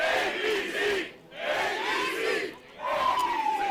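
A crowd at a Friday Night Fire fight event roars and cheers in surging waves, with brief lulls between the swells, heard at a moderate distance without voices over it.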